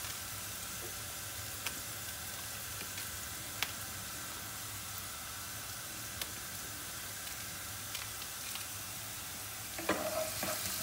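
Onion frying in a pan, a steady close sizzle and hiss throughout with occasional small pops and a stirring scrape near the end.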